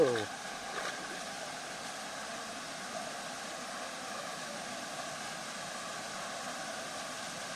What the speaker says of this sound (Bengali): এটা হচ্ছে রূপসী ঝর্ণার লাস্ট স্টেপ